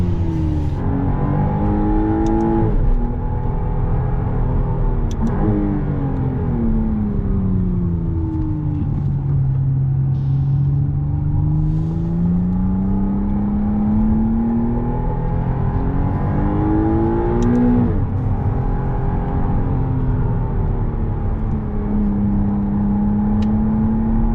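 A McLaren Artura revving and accelerating in first gear, its engine note rising and falling in pitch several times as a loud, continuous drone heard from inside the car.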